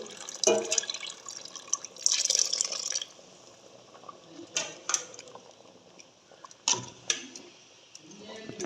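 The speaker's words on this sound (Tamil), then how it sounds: "அடுத்ததாக வந்து பால் விட போகிறோம்" Milk is poured into a pot of green banana (plantain) sambar in a Jaffna-style home kitchen. Soft liquid splashes mix with sharp metal clinks of a utensil against the pot, in short bursts over a quiet background.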